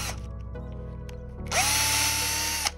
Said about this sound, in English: I pushed too hard with the drill and had some blowout.